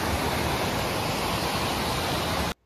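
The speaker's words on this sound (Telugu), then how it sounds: "ఇప్పుడు ముందుకు వాటర్ అయితే ఇలా ఫ్లో అవుతుందన్నమాట" Water gushing through a breach in a broken pond embankment near a waterfall, a dense continuous roar close by that cuts off abruptly at the end.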